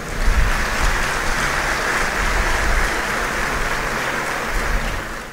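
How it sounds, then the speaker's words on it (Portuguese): Broad, steady audience applause fills a Brazilian awards ceremony for business honorees. It holds at an even, dense level from start to finish. "Eu peço agora uma salva de palmas a todos."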